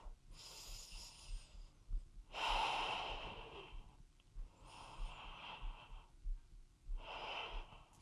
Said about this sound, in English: One more breath in and out.